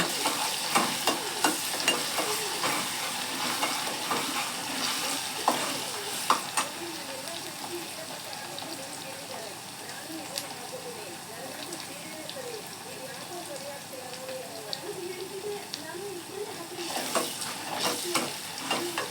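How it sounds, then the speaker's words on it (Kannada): Ginger garlic paste frying in a pan, a continuous close sizzle with frequent stirring scrapes, while someone talks over it throughout. "ಚೆನ್ನಾಗಿ ಫ್ರೈ ಮಾಡ್ಕೋಬೇಕಿದು ಶುಂಠಿ ಬೆಳ್ಳುಳ್ಳಿ ಪೇಸ್ಟ್ ಹಾಕ್ಕೊಂಡು"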